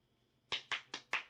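One person claps their hands four times, crisp and close, in an even rhythm after a short quiet pause, with no voices.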